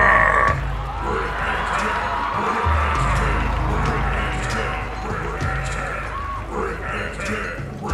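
A crowd roars in a Fortnite short film about a duel to the death, a sustained rumbling mass of voices with swells and shouts, while a character speaks over it.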